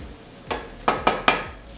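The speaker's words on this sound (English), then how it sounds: "Got my Mirepoix. You hear it sizzle a bit." Mirepoix hitting hot cooking oil in a pan, a few quick sizzling bursts in close succession, close and fairly loud, with faint clinks of stirring and no talking.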